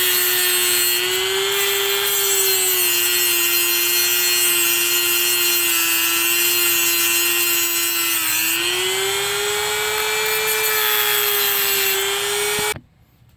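A power cutting tool slices at an angle into the hub of a rear wheel bearing on a 2000-2006 Lincoln LS, a steady loud whine running alone without pause for about twelve seconds before cutting off abruptly.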